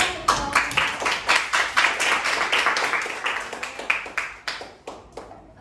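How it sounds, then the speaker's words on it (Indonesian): A small classroom group claps together in a steady, lively burst of applause that gradually thins out, with a few scattered claps at the end. "Beri tepuk tangan ya."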